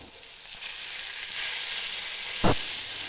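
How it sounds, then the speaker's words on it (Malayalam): A large mackerel shallow frying in a pan, giving a steady loud sizzle and hiss with a brief sharper spatter near the end. "ഞാനതിനെ ഒരു പാനിലോട്ട് വെച്ചിട്ട് ഒരു ഷാലോ ഫ്രൈ ചെയ്തെടുക്കുന്നുണ്ട്"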